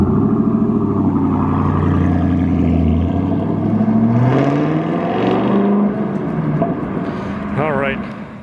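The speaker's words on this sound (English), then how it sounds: "You still hear that Camaro. That thing sounds awesome." A Chevrolet Camaro ZL1 1LE driving away, its loud engine note droning low and then rising and falling as it revs off into the distance, with a voice near the end.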